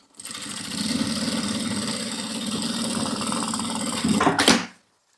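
A sewing machine runs a safety seam along a multipurpose bag, its motor giving a steady, close whirring hum for about four seconds before a brief louder burst and an abrupt stop, with no talking.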